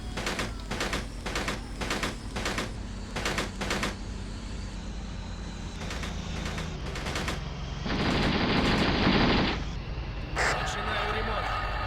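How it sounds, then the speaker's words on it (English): The coaxial machine gun of a T-62 tank rattles in the war game Steel Armor: Blaze of War, firing rapid repeated bursts of sharp shots over a low engine rumble, followed by a louder burst of hissing noise. "the machine gun on these things sounds awesome"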